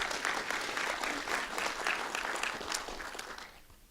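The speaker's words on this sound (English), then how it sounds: "You can clap for that." Audience applause at a campaign event for a Republican candidate for Secretary of State, a steady, dense patter of many hands clapping for about four seconds, fading slightly toward the end, with no talk over it.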